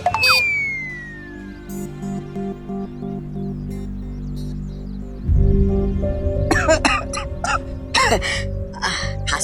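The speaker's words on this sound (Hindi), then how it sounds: "खांसी हो रही है" A girl coughs in a Hindi TV drama scene, a few sharp bursts close to the microphone after a stretch of background music, with other sounds mixed in.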